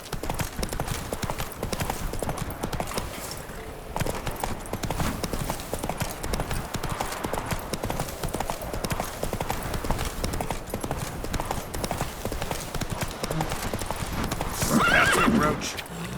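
Hooves clip-clop steadily as a horse gallops through The Witcher 3, with a whinny near the end and speech heard over the continuous running.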